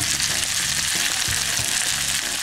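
Basil and onion sizzle steadily in a hot pan while being stirred, with a continuous loud frying hiss and a few soft scraping strokes underneath; nobody speaks.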